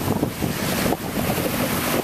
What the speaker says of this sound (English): it's super massively windy right now